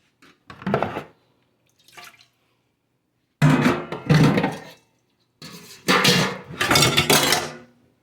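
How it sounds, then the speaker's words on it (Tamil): Several bursts of clattering dishes and running water as dishes are loaded into a dishwasher, separated by silent gaps, close by with no talking. "மற்றது எல்லாம் டிஷ்வாஷரில் போட்டுருவேன்"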